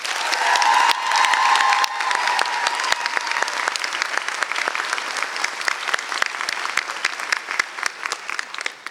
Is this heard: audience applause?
yes